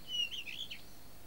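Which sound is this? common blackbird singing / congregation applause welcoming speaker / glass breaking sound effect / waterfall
common blackbird singing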